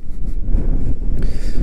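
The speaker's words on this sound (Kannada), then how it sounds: "ಅಷ್ಟು ಜೋರಾಗಿ ಗಾಳಿ ಇದೆ ಇಲ್ಲಿ." Strong wind blows across the Kote Betta hilltop in Coorg on a foggy day, buffeting the microphone with loud, gusty rumbles that rise and fall through the short stretch.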